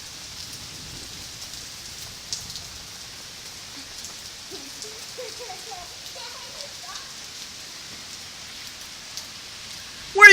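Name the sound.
rain falling outdoors while children play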